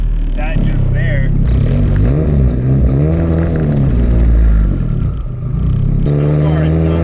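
A Nissan Cefiro with a K24 engine and straight-piped exhaust accelerates while driving, its loud engine drone rising and falling through the revs, heard from inside the car as a voice talks over it.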